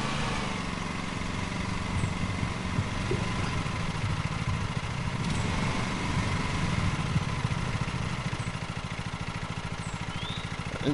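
A lawn mower engine in Lawn Mowing Simulator drones steadily and close, a loud continuous mid-pitched hum with no pauses or talk.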